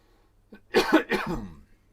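A single person coughs close up, a short harsh burst of two or three quick coughs in about a second, with no talk around it and quiet before and after.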